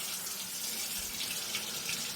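A kitchen tap runs steadily into the sink while the water is left to warm, a constant even hiss and splash with no pauses.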